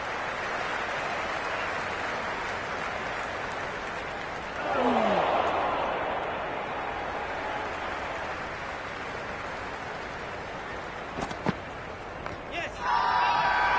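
Crowd noise from a PlayStation IPL cricket video game, a steady broad roar of spectators that swells briefly mid-clip during an appeal, with a commentator speaking over it.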